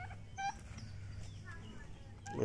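Two-month-old turkey chicks on a poultry farm give a few short, faint peeping calls over a low background hum, with a louder rustle at the very end.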